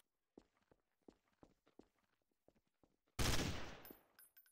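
Burst of gunfire in the shooter game Trouble in Terrorist Town, a loud dense volley erupting after a stretch of quiet footsteps and soft movement, then ringing briefly as it fades.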